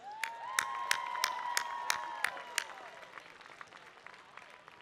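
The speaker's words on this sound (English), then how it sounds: "I think we deserve a round of applause" A campus crowd at a university fundraising campaign launch claps in a slow, fairly regular rhythm, with sharp distinct claps over a soft bed of cheering and drawn-out whistle-like calls, dwindling toward the end.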